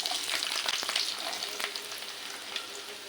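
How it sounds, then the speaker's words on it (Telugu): Chopped onions and green chillies frying in hot oil for a village-style mushroom curry, a bright close crackle and sizzle with a few spoon scrapes, gradually easing. "ఆయిల్ వేడెక్కిందండి ఈ ఆనియన్స్ పచ్చిమిర్చి వేసేసుకున్నాను"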